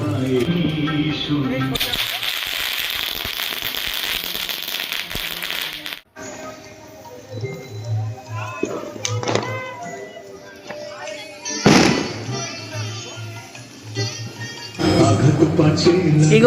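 Diwali firecrackers in Kolkata give sharp cracking bursts and longer crackling stretches. Some are loud and close, with quieter gaps between them, and children talk and call out among the bangs.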